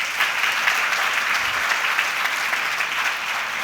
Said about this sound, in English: A big round of applause, my warriors.